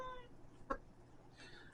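A house cat gives a single short, faint meow indoors during a quiet model kit review, briefly rising out of a soft background hum.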